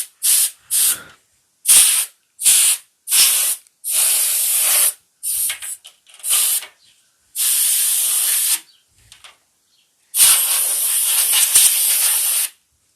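A can of compressed air duster sprays hard, high-pressure blasts while cleaning a disassembled PlayStation 1, with about a dozen loud, close hisses of varying length, some short bursts and some held for over a second.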